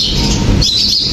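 Birds feed outdoors, chirping loudly and close by in quick, overlapping high tweets that carry on throughout without any talk.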